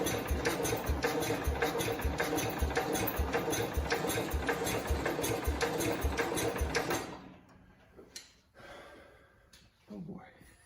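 A Cub Cadet 105 lawn tractor engine runs with a fast, steady chugging beat for about seven seconds, then cuts out and leaves faint clunks and scraping.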